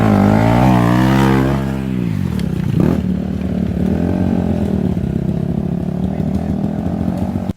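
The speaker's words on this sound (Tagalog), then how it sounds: "Paakyat na yung motor, hatid na tayo." A custom motorcycle engine climbs uphill, opening with a rising, high-revving growl that dips, then settles into a steady, loud droning labor close by.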